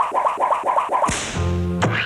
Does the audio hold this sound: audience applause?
no